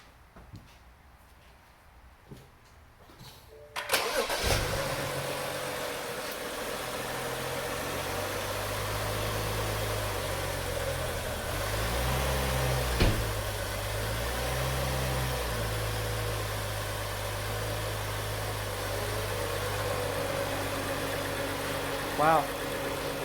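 A BMW 335i engine cranks and catches after a few seconds of near silence, then settles into a steady, loud idle in a home garage, with a brief blip partway through.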